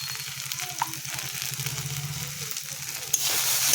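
Fish seasoned with salt and turmeric sizzles steadily in hot oil as it is stirred, a close, continuous frying hiss with faint scraping and a brief louder burst near the end.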